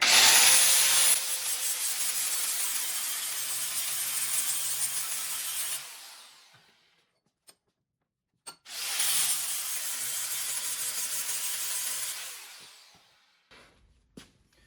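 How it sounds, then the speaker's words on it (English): Angle grinder with a flap disc grinding a metal axe head, two sustained close abrasive passes of about six seconds each that wind down to silence between, with a couple of small knocks. "You can feel it as you move that grinder."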